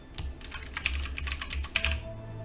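Quick bursts of keystrokes on a computer keyboard, about a dozen crisp, close clicks in an uneven rhythm, heard alone.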